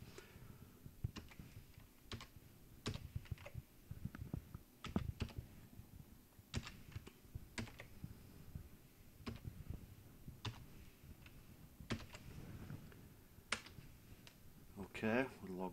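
Quiet computer keyboard typing as a password goes in, scattered individual key clicks spread irregularly over a long stretch, faint and close against a soft background.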